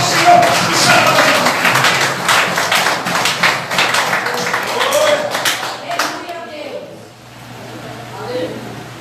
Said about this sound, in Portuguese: Recebe o profeta de Deus, aplaudindo nosso Senhor e Salvador.